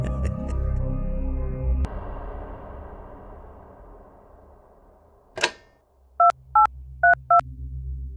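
A phone is dialled with several short, evenly spaced beeping key tones near the end, following a fading musical passage and a sharp click.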